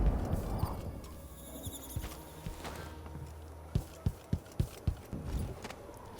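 Heavy footsteps of loud, expensive shoes in the video game Dishonored 2, a run of about six sharp thudding steps in steady rhythm, close and prominent over a quiet, murky ambient background.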